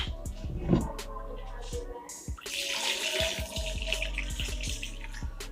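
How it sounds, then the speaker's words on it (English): Tap water runs into a pan to cover pasta for cooking, a steady splashing stream that grows louder partway through, with light clinks of the pan. "And then cover everything with water."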